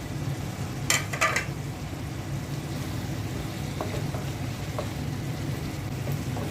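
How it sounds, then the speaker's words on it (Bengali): Potatoes, already boiled, go into a pan of vegetables frying in oil for a rohu fish curry with drumsticks. A steady low sizzle and hiss runs throughout, with a couple of sharp clatters from the spoon or pan early on and faint ticks later. "সবজিটাও কষানো হয়ে গেছে, এখন আমি আলু সিদ্ধগুলো দিয়ে দিচ্ছি।"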